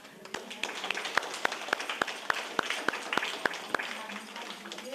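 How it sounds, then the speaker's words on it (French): Small gathering of young people clapping for participants after a discussion, distinct individual claps in a loose rhythm, moderately close, with voices murmuring underneath. "Je pense qu'on pourrait les applaudir."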